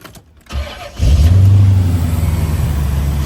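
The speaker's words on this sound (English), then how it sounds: "Alright, so I'm gonna start this car up" A 1989 Chevrolet Corvette convertible cold-starts: a brief cranking burst, then the engine catches with a loud rev and settles into a steady, rumbling idle, heard up close with no talking.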